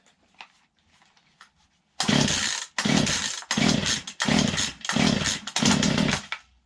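A Poulan chainsaw gets a few soft priming clicks in near quiet, then six loud, rapid pull-start rips follow one after another close by, each a rasping burst of cord and engine turning over without catching.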